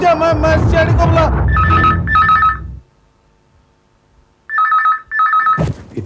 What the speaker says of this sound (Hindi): इतनी रात गए, किसका फोन है?